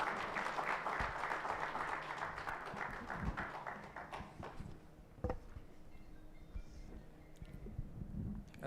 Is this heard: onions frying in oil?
no